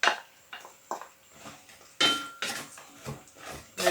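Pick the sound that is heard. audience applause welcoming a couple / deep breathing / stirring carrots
stirring carrots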